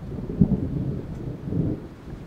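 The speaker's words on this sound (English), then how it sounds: "The thunder is right above my head" Low thunder rumbles overhead on a sunny day at a cabin, a deep rolling swell with a stronger burst early on and a second softer rise, fairly quiet overall.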